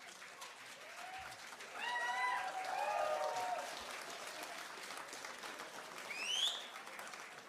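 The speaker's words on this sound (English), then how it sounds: "Guys, a round of applause for the guys here." A crowd applauds steadily in a large room at a fan event in Cologne, with a few whoops and whistles rising over the clapping.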